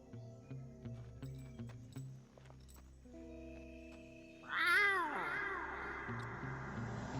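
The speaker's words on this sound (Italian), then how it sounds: "È il verso di un ocelot, di un gatto selvatico." An ocelot wild cat call from the Metal Gear Solid 3 video game: a brief, sharp, yowling meow that bends up then down, rising over quieter game ambience and soft tones.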